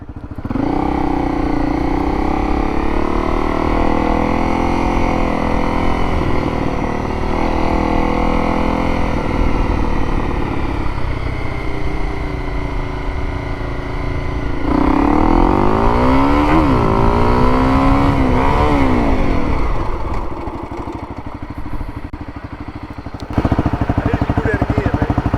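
A motorcycle rides through an Arkansas skills test course, its engine droning steadily and close, then rising and falling in several quick revving surges before easing back and picking up again near the end.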